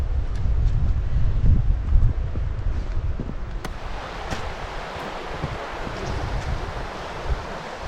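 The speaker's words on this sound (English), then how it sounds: "I can hear the water. I can't hear the waterfall." A stream flows along a waterfall trail, making a steady broadband rush of water that is close and fairly loud. Wind and faint rustling from walking mix in throughout.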